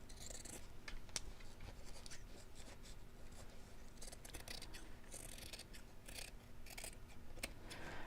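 Scissors snip through fabric in a sewing session, a faint, close series of repeated cuts and scratchy slices continuing for several seconds with no talking.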